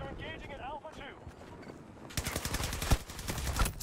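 Rapid automatic gunfire in Battlefield 2042 bursts in loudly partway through, following a quieter opening of game ambience and a short voice, then continues as fast clattering shots to the end.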